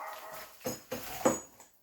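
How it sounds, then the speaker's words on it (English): A dog barks at night indoors, giving three short, fairly faint barks spaced about a third of a second apart with some whimpery tone, heard alone without talk. "My dog is barking, and it's 1 a.m."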